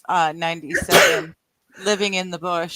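A single sharp sneeze bursts out between stretches of someone talking, followed by a brief pause of silence before the talking resumes.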